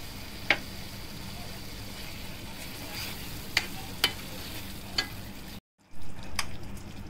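Prawn gravy simmering in a pan as coconut milk is stirred in: a soft continuous bubbling sizzle with a few sharp spoon taps against the pan, close by, then a brief drop-out before the cooking noise resumes.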